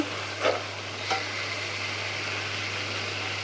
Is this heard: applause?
no